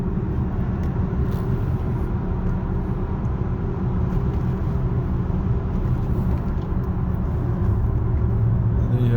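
A 2003 Dodge Dakota rolls downhill on cruise control, a steady low road rumble and engine drone from inside the cab with tyre noise, continuous and even throughout with no talking.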